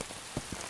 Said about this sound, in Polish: Zaczyna padać.